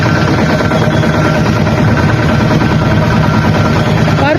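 A tractor engine runs steadily and loudly throughout, a dense low rumble with vibration and no break in its drone.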